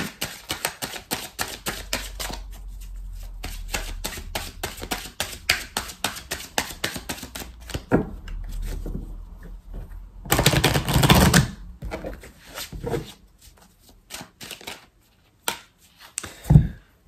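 Tarot cards are riffled and tapped in a quick, crisp run of dry clicks, then cut with a few softer slaps and brief pauses, close and fairly quiet, with no one speaking.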